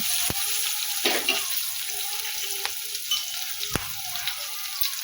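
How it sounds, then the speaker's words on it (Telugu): Green chillies fry in a pan for a duck curry with a steady broadband sizzle, broken by a few sharp clicks and stirring scrapes near the pan. "బాగా బ్రౌన్ కలర్ వచ్చేలాగా వేసి పచ్చిమిర్చి బాగా వేయించాలన్నమాట"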